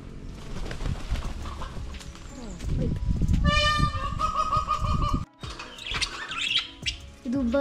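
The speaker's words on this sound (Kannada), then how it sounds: "ಇದು ಬರ್ಡ್ಸ್, ನಮ್ಮ ಎಲ್ರಿಕ್ನದ್ದು." Pet birds kept at home give loud honking calls with a clear, tonal ring, mixed with shorter chirps and calls over steady background noise.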